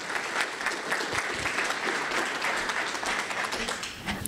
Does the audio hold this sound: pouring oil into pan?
no